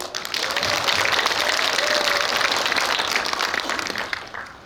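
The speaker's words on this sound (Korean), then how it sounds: "박수 한번" A crowd applauding steadily for several seconds, a dense even clatter of many hands that fades slightly at the end.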